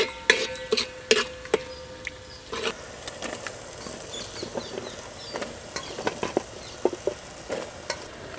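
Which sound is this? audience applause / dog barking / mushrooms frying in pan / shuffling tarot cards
mushrooms frying in pan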